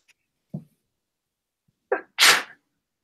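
A person sneezes once sharply, preceded by a small catch of breath and a brief intake, the burst short, close and loud in an otherwise quiet room.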